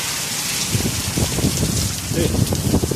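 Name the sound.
rain falling outdoors in Potsdam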